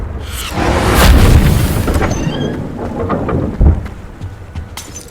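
A Confringo fire spell from the video game Hogwarts Legacy goes off with a booming blast that swells, then fades into crackling rumble. A second sharp impact hits near the end.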